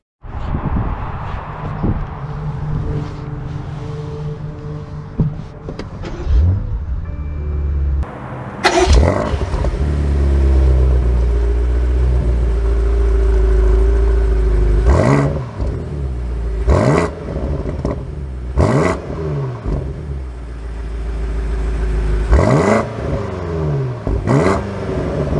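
A 2022 BMW M5 CS limited edition engine starting up and revving, with several sharp throttle blips and deep rumbling over a steady idle, loud and close with no talk.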